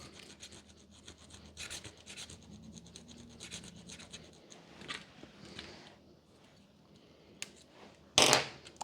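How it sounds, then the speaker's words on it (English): Old foam is scraped off a Bose QC35 ear pad in short, close, dry rubbing and rasping strokes that come and go, ending in a louder scratchy burst; nobody speaks. "Again, scrape the old foam off"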